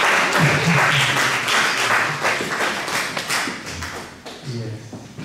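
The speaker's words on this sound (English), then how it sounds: "A round of applause for that group." Applause from an audience greeting a group of graduating ministry students at a school-of-ministry ceremony, dense clapping filling the room with voices and cheers mixed in, fading slightly toward the end.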